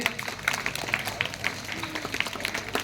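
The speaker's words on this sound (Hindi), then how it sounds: "के भाषण प्रस्तुति के लिए पुनः और एक बार जोरदार ताली बजा देंगे" Audience applause at an inter-school children's assembly in Balrampur after a student's speech, scattered claps in the hall at moderate volume lasting the whole span with some background noise.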